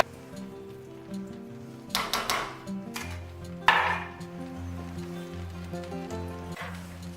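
Drained canned mushroom stems and pieces tipped into a cooking pan, with a few close clattering plops and a brief sizzle burst over a low, steady background hum.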